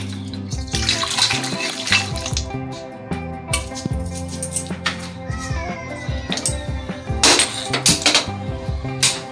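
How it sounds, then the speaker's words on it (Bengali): Boiled mutton curry pours from a pressure cooker into a wok as a loud, close gush of liquid, with clinks of metal against metal partway through, continuing unbroken for several seconds. "কড়াইতে ঢেলে দিচ্ছি।"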